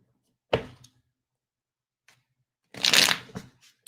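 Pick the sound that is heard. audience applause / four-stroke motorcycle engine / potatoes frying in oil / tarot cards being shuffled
tarot cards being shuffled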